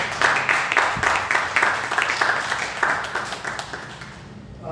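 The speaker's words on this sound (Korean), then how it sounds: "여러분 박수로 축하하고" A church congregation claps in celebration of a member's recovery after surgery. Brisk, sustained clapping starts at once, then gradually tapers and fades out near the end, with little talk.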